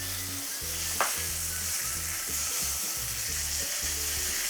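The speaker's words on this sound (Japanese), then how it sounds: "最後皮目をもう一回少し焼き付けて" Lemon chicken sears skin-side down in a hot pan, a steady, even sizzle of frying that runs continuously at close range, with one brief sharp clink partway through and no talking.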